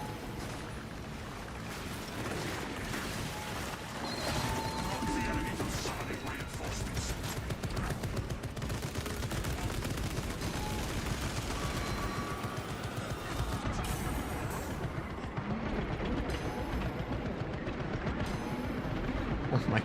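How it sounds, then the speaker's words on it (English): A tarantula sentry gun in Space Marine 2 fires in dense, continuous rapid bursts amid a loud, chaotic battle mix, with speech mixed in. "Having a tarantula sentry gun."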